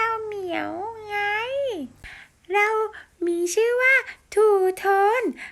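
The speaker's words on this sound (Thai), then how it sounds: "เราเป็นแมวของครูนี่ที่เลี้ยงไว้ที่บ้านนะ" A house cat meows in a series of long, drawn-out calls, loud and close, with rising and falling pitch and short pauses between several cries.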